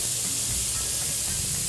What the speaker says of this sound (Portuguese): Comecei fritando esses pimentões e o tomate, logo em seguida a pasta mistério e o peixe.